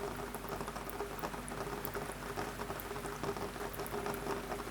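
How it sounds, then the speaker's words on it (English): A soup pot simmers gently, its steady soft bubbling and popping forming a continuous low texture throughout, with no voices present. "You return to the pot, a gentle bubbling now."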